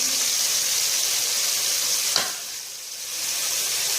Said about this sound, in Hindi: अच्छी तरह चमचा चलाती जाएं